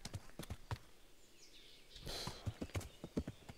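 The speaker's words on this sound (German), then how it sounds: "Ja, das ist ein Pferd, Mädels." A horse in Kingdom Come: Deliverance, its hooves clip-clopping in an irregular run of sharp thuds, with a brief whinny-like burst partway through and faint birdsong in the background.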